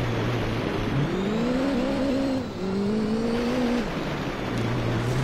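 Citroen Xsara race car engine in Gran Turismo 3 on the Tahiti Maze rally course, revving up through the gears with rising whines, a brief dip at a shift or lift, then climbing again before settling into a steady drone.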